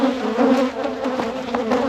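Honey bees from a second deep hive, disturbed during an after-winter inspection, buzz in a dense, loud, unbroken drone close by, with individual bees zipping past.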